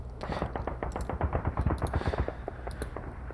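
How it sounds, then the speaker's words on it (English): Artillery barrage fire from the Panzer Campaigns wargame, Market Garden scenario, at point-blank range: a rapid, close run of overlapping sharp shots and cracks, steady and dense throughout. "I'm gonna get them to fire a barrage at point-blank range"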